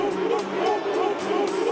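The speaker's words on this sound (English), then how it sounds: "that's dreadful, the way they're shouting every time Sean Wright-Phillips gets anywhere near the ball" Spanish football crowd in Madrid jeering and shouting abuse at England's Shaun Wright-Phillips, a continuous dense roar of many voices with rhythmic surges, heard from a distance.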